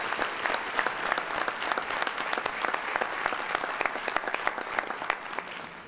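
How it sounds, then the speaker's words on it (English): Sustained, dense applause from a gathered audience at a scholarship jazz brunch, honoring the late Dr. Dolores Richard Spikes, steady and fairly loud throughout with no pause. "Please join me in a round of applause"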